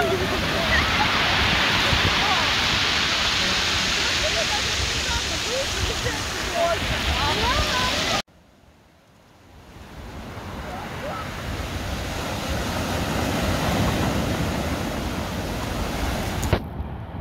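Stormy sea at Dagomys near Sochi after rain, a steady loud roar of surf and wind, cutting out briefly midway and then building back to a full wash.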